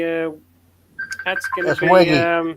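A phone call being placed during an online hangout: a short steady tone, a pause, then dialing beeps mixed with voices talking over the line.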